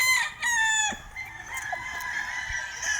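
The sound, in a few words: bulik grey gamecock rooster clucking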